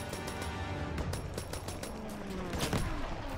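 Sustained gunfire from the Call of Duty WW2 campaign battle, dense rapid shots and machine-gun rattle layered together with no pause, loud and close throughout.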